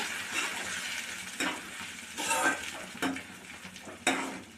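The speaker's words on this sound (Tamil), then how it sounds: "சேர்த்துட்டு நல்லா வதக்கி விடுங்க" Onions and ground tomato paste are stirred in a hot pan for a brinjal dish, a faint sizzle running beneath several scraping stirs of the spoon, close and fairly quiet.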